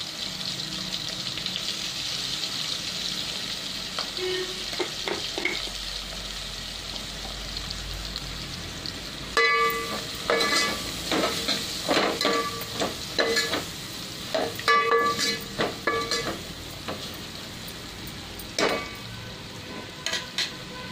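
Ingredients with turmeric fry in a pan for sambar, a steady soft sizzle underneath with bursts of stirring and utensil scraping that come and go, close and moderately loud.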